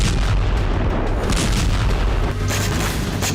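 A heavy blast rolls out during a drone attack on Primorsk port, sounding as a loud, rumbling boom with continuous crackling roar and distant thuds, with no voices.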